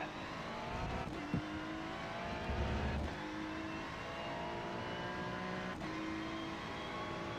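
A Ferrari 296 GT3 race car engine in the iRacing game at Algarve International Circuit, revving hard with rising pitch sweeps as it shifts through gears, steady and loud without any talk.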